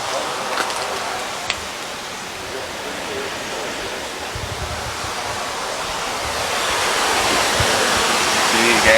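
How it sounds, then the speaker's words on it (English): A large waterfall roars as a steady broadband rush at an old cotton mill site, constant and close, swelling slightly louder toward the end with faint brief talk. "Big ass waterfall."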